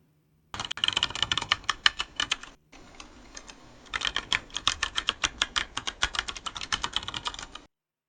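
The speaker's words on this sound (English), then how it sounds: "fingers tapping on a metal keyboard rhythmically" Fingers tap rhythmically on a metal keyboard in a generated sound, giving bursts of fast, crisp clicking, then a brief pause before a steadier run of evenly spaced, loud taps.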